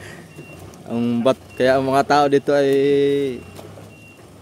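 A stone-delivery truck sounds faint, thin reversing beeps that repeat now and then beneath someone talking close by.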